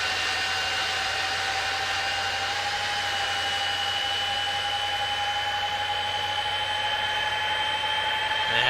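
A Felis 747-200 freighter's CF6 jet engine spooling up in the X-Plane flight simulator, a loud steady roar with a whining tone that rises slowly and continuously throughout.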